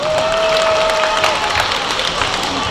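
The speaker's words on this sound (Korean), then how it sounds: "큰 박수 부탁드리겠습니다." Audience applause in a school hall during a quiz competition ceremony in Yeongdong, broad sustained clapping filling the room at fairly loud level, with a brief tone over the start.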